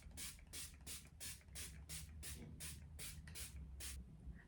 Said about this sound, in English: I'm going to use setting spray to lock down all foundation and concealer